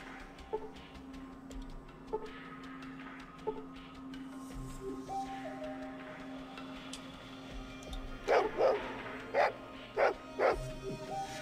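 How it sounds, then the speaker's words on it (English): A dog in the video game Fallout 2 barks in a few sharp, spaced yips, then a quicker cluster of louder barks near the end, over a low ambient game hum. "There's the dog."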